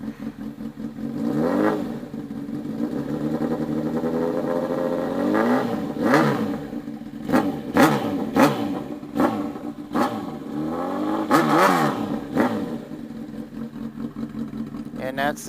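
A Honda CBR1000RR sportbike engine revved repeatedly up close, sharp throttle blips rising and falling over a rough idle, with a voice talking briefly in between.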